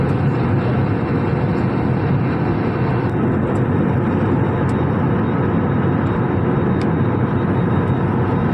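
Steady, loud airliner cabin roar during cruise on a flight from Amritsar, a dense unbroken drone with no talk.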